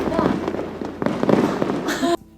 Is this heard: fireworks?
yes